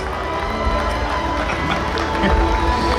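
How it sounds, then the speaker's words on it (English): A festival crowd at a bourbon and music festival applauds and cheers, a dense continuous wash of clapping and shouting that holds steady for a few seconds. "Let's give him a round of applause."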